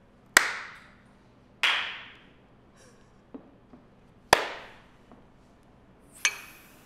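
A handful of sharp single hand claps, each ringing out briefly, spaced a second or more apart with a couple of softer taps between, passed from person to person at the close of a tech podcast; no talking.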